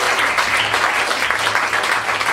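Steady, dense applause from a crowd, loud and continuous throughout the short stretch with no pauses.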